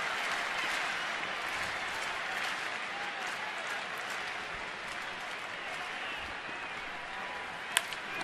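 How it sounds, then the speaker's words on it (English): Big home-team crowd at a Cubs at Nationals baseball game in Washington, a steady broad roar of cheering and applause filling the stadium with no clear break. "Big crowd trying to exhort the home team"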